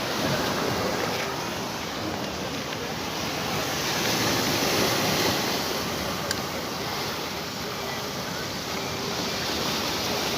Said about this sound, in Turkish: Gördüğünüz gibi dalgalar maşallah.